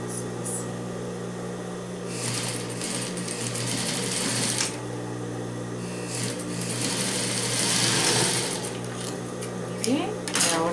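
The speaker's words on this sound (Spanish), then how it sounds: "Solo cosemos el pedacito que falta de esta manera, doblando" Sewing machine stitching together the fabric pieces of a cushion cover, its buzzing motor running in several bursts with pauses in between, fairly close and moderately loud.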